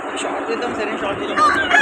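Rooster at a Sunday fighting-cock market in Vijayawada, giving a brief, close crow toward the end over a busy murmur of market noise.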